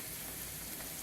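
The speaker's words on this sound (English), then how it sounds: "while your potatoes are frying on one side" Potatoes frying in oil in a pan for fondant potatoes, a steady close, dense crackling sizzle that holds evenly for about a second with no voices.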